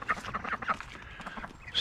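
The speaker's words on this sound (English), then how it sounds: "This is my little Peking duck." A young Pekin duck quacking close by, rapid, soft, repeated calls in a quick chattering series, with a faint rustle at the end.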